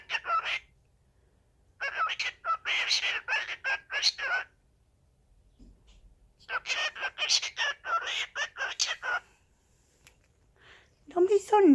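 Cockatiel squawking and chattering in loud bursts at close range, with pauses between the outbursts and a shrill call at the end.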